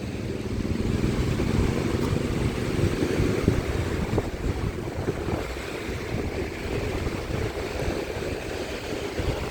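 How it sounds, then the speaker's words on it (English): Ocean waves wash steadily onto a Rhode Island beach as the tide comes in, a continuous broad roar of surf with wind noise, fairly loud and close throughout with no talking. "And the tide is coming in."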